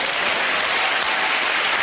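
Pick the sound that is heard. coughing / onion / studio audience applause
studio audience applause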